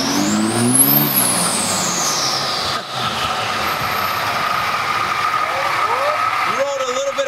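A Cummins dually diesel pickup with a stock turbo accelerates nearby, its loud rumbling engine overlaid by a rising and falling turbo whine, with further whistling sweeps near the end.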